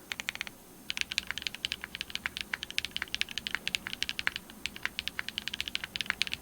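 Rapid, steady typing on a Leaf65 mechanical keyboard with an aluminum plate and Matcha Latte switches: crisp, clean clicks in a quick, even rhythm, close and alone, with a brief pause near the start.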